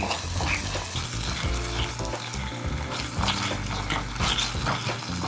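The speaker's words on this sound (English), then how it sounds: "I'm going to let this go for another 5 minutes or so, and I'm going to keep stirring now every 2 minutes or so until it's all nice and caramelized" A tomato, onion and garlic base fries in a pan with a loud, steady, close sizzle and occasional stirring scrapes throughout.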